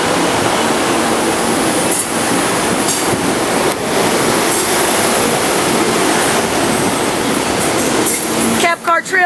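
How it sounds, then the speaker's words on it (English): A six-car train rolls along the Esmeralda line in Vila Olimpia, São Paulo, giving a steady, loud wash of rumbling wheel and track noise close by, broken by brief clatters, with a short burst of talk near the end. "This is the Esmerald line."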